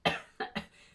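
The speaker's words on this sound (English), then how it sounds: "made me cough just thinking about it" A woman coughs once sharply and then twice more in quick succession, close and fairly quiet, with no talking.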